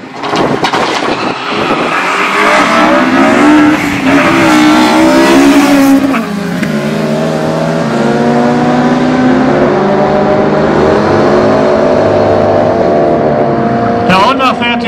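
Motorcycle and car, a Honda against a Mopar, racing side by side down a quarter-mile drag strip at Aldenhoven, Germany, with loud sustained engine roar rising through the gears. A commentator talks over the noise.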